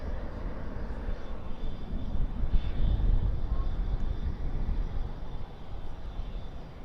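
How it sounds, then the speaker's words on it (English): An American Airlines Boeing 737-800 departs Dallas/Fort Worth at night with a steady, broad jet roar. The sound is fairly loud and swells slightly midway, with no voices over it. "That is American Airlines flight 2375 going to Salt Lake City, a"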